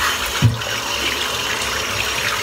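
Running tap water splashes steadily and close by while soap is rinsed off a thick, dense shaving brush, with one brief low knock near the start.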